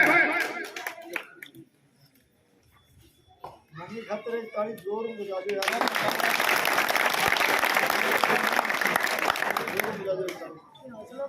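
Loud, dense applause and clapping from a crowd at a political rally in Bhadra, rising after a man's announcement and holding strong for several seconds before fading into further talk.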